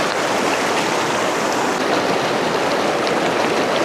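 A strong, dangerous river current rushes past, loud and close, in a dense, unbroken roar of water with no pauses.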